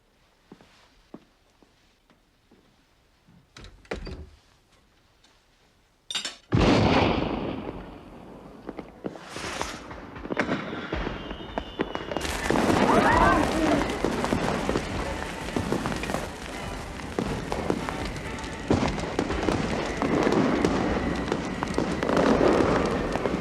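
Fireworks going off at a seaside house party in an English drama, with scattered cracks and bangs that build into a dense, continuous crackling barrage.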